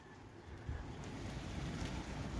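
Blustery wind in damp, raw bad weather outdoors in a garden, a faint, steady rushing buffet with soft gusts and low rumble throughout.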